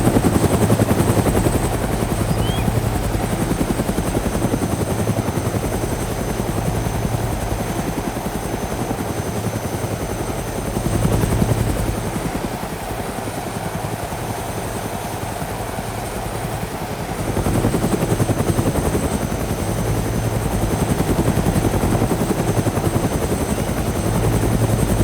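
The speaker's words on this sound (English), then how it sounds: "this is the first time flying a helicopter in DayZ" Helicopter in the DayZ video game, a steady, loud rotor and engine drone with a throbbing low beat that runs unbroken for the whole stretch, swelling slightly at times, with no voices.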